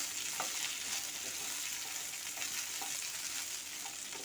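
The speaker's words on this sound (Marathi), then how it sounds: "भेंडीसुद्धा दोन तीन मिनटं आपल्याला तेलामध्ये चांगली फ्राय करून घ्यायची आहे" Okra (bhindi) frying in oil gives a steady, even sizzle with scattered small pops, close and fairly soft throughout.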